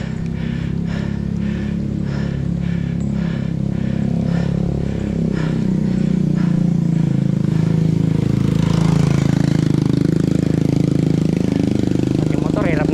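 A motorcycle engine labours loudly while climbing a steep uphill snake road near Paete, Laguna, droning steadily with rhythmic pulsing and rising revs toward the end, under wind noise and a low hum.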